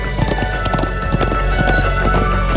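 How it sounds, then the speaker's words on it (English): Rapid hoofbeats of a horse in the video game Trails of Cold Steel II clatter in a steady galloping rhythm, close and loud, with a brief whinny. "I'm glad I still remember how to ride a horse."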